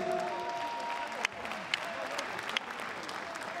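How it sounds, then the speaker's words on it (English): Crowd applause for two fighters after a fight ends by referee stoppage at an MMA-style event, a steady broad wash of clapping with a few sharper claps standing out. "A big round of applause for both men,"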